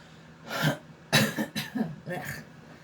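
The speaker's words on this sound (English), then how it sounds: "Sorry for all the extra coughings." Several harsh coughs in quick succession, close and fairly loud, over a low background hiss.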